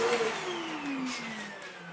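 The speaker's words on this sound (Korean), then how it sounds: "이런 특히 이제 쿨러 같은 경우도 이렇게 문질러 가면서 청소기로" A household vacuum cleaner held close to a PC cooler while dusting out a computer case, giving a steady whirring drone with a slowly falling pitch, moderately loud and with no speech.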